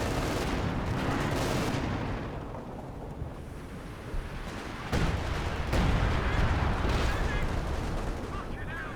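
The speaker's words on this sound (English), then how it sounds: "concentrated barrage coming on the area" Artillery barrage in the Company of Heroes 2 strategy game, with a dense, rumbling run of heavy blasts and crackling impacts, loud and continuous, building to sharper explosions in the second half.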